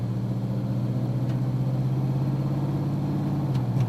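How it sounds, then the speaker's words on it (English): Car with a newly installed Transgo 4L60E-HD2 valve body in its 4L60E automatic transmission, cruising on a road test: a steady low engine drone and road rumble from inside the cabin, with no speech. "Let's road test the vehicle and check its new performance."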